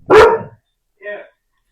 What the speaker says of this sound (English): Sorry if you guys can hear my dog barking.